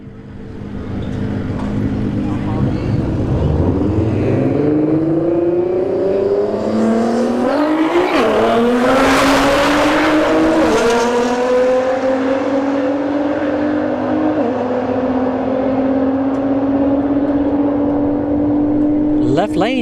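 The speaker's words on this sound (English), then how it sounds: "All right, GTR versus GTR again." Two Nissan GT-R cars launch side by side at a drag strip, engines roaring loud and close with rising, shifting revs that climb, dip at gear changes and climb again, a track announcer talking over them throughout.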